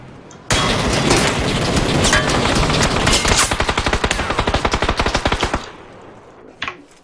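Rapid automatic gunfire in the video game PUBG, a dense loud burst that breaks into a fast rhythmic series of individual shots, then stops, followed by a single brief distant report.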